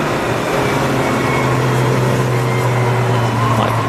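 Jaguar XE Project 8 race car engine during a relay race at Silverstone GP circuit, a steady loud rumbling drone from a passing car amid track noise, with no talk.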